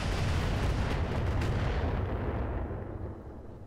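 Heavy mech weapon fire in the Roguetech video game, firing normal ammunition, sounds as a loud booming barrage of repeated blasts that rolls on and then fades into a decaying rumble.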